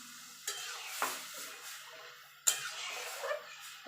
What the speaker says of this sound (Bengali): এবার আমি যে ডালটা সিদ্ধ করে রেখেছিলাম সেটা ঢেলে দেবো